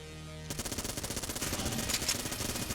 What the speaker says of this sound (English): Vulcan cannon.